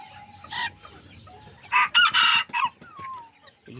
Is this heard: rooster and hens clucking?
yes